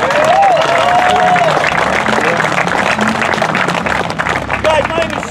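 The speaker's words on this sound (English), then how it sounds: "Let's give them a round of applause first." A crowd at an outdoor mud bogging event applauds the organizers and volunteers, with clapping mixed into loud babble and cheering, and a whistle-like tone cutting through near the start and again near the end.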